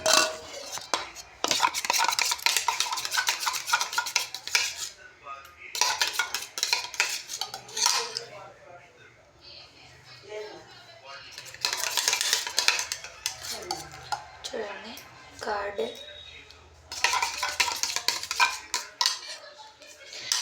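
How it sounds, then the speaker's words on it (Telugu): A spoon stirs curd around a bowl with repeated scraping and clinking, in loud bursts broken by quieter pauses, and no voice over it. "ఈ స్పూన్ తీసుకొని ఇక్కడ ఫస్ట్ అయితే పెరుగు మొత్తం నీట్గా కలపండి."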